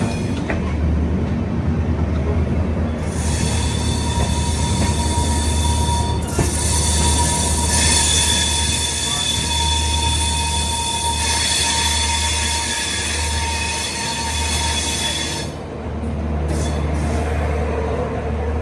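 The Navyug Express passenger train rolls along with a steady low rumble, wheel and rail clatter, and squealing tones throughout, loud and continuous with no talking.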